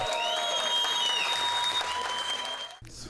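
Applause greets candidate Marcelo Ramos as he arrives at his party's headquarters in Manaus, a dense crowd clapping steadily and loudly, with tonal noise layered over it, before it breaks off near the end.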